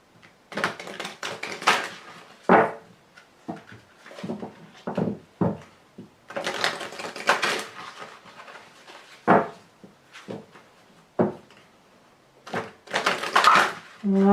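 Oracle cards being cut and shuffled by hand: close, irregular bursts of riffling and slapping card sounds with short pauses between them.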